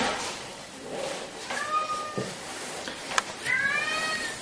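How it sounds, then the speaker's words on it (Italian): A cat meows repeatedly at a veterinary clinic, several rising and falling calls close by and fairly loud, with a brief click partway through. "intanto sentite un miagolio"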